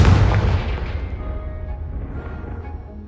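In Hogwarts Legacy, a Confringo fire spell blasts off with a sharp, powerful boom in the first half second, trailing into a low decaying rumble over three seconds, with no one talking.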